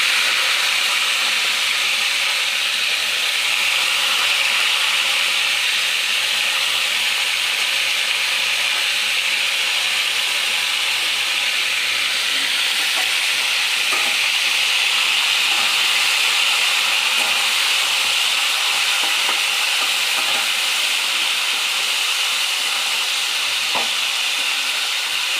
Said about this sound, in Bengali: জিরেটা লাল হলে ফুলকপি আলু একসাথেই ভেজে নেব।